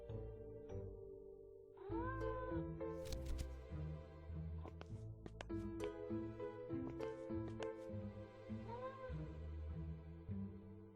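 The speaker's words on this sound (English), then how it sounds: "Is that a cat meowing?" A cat meows a few times amid a quiet indoor scene, with soft mewing calls rising and falling at intervals under faint background sounds.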